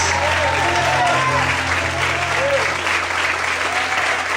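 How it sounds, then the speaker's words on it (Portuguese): Sustained applause from a large congregation at a Portuguese-language church service, steady and full throughout, with faint voices calling out beneath the clapping. "Glorifique e aplauda o nome dEle, em nome de Jesus."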